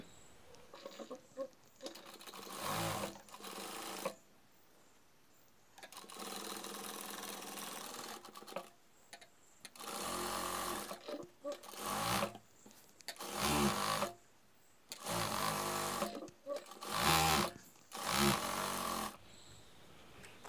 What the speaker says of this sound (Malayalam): അപ്പോൾ നമ്മൾ ആദ്യം തന്നെ അടിയിൽ ലൈനിങ് ഇട്ട് നമ്മൾ അടിച്ച് പിടിപ്പിക്കാം